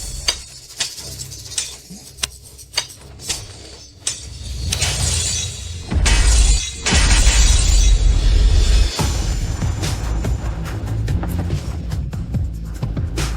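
A bare fist punches through a steel plate in a martial arts demonstration. Sharp metallic strikes tick out at first, then a loud crashing break bursts out and heavy, dense noise keeps rolling on afterward.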